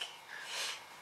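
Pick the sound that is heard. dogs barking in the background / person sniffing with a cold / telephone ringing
person sniffing with a cold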